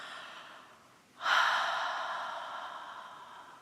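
A single deep, audible breath drawn in and slowly released during a moment of group prayer, starting abruptly after a quiet pause and fading gradually, with no talking.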